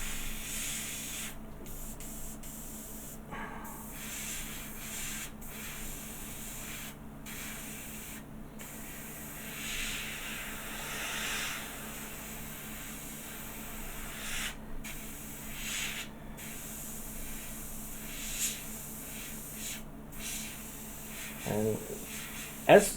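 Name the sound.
airbrush spraying paint on Doctor Who Airfix model kit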